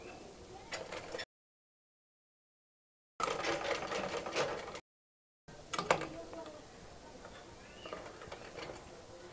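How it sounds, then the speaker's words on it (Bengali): A sewing machine stitches elastic onto the waist of a gathered toddler's frock, running in short bursts separated by pauses, fairly close and steady, with faint voices or background noise. "এই রাবারটা আমি এই পাশে সেলাই করে ফেলবো।"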